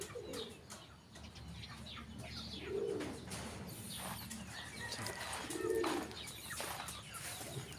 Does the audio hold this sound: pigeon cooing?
yes